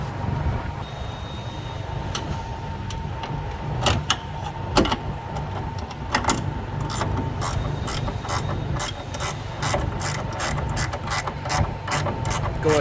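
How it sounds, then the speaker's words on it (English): A 15 ratchet wrench tightening a stud while mounting a tailgate strut on a Ford Super Duty truck gives a long series of sharp ratcheting clicks, sparse at first and then coming in quick regular bursts over a low steady hum. "we're going to get a 15 ratchet wrench and we're going to finish tightening this"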